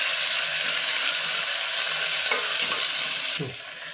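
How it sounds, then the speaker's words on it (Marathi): Chopped onion sautéing in a hot pan for masala khichdi, a steady broadband sizzle with a spoon stirring and scraping through it, loud and close, easing off near the end. "कांदा सुद्धा आपल्याला थोडासा गुलाबीच्या रंगावरती परतून घ्यायचा आहे"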